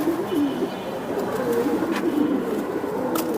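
Giribaj pigeons, flying pigeons kept for sale, cooing close by in a series of soft, throaty, rolling coos that repeat steadily over a light background hiss, with a few faint clicks.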